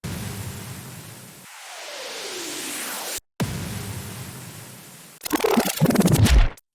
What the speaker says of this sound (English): I've just added a bunch of white noise,